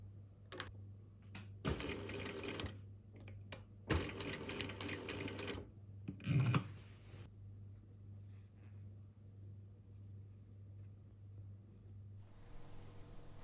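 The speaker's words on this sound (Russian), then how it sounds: "советую вам проложить строчку вот так" Sewing machine stitching knit jersey fabric straps for a sports top, heard in several short loud bursts of rapid mechanical whirring separated by pauses, over a steady low hum.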